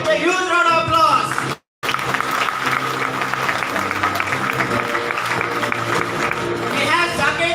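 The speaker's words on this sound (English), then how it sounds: "let us all welcome him with a huge round of applause" An audience claps loudly and steadily to welcome a panelist at the Jagriti festival 2022 at ISKCON Seshadripuram, with a brief cut partway through and a voice speaking over the applause at the start and end.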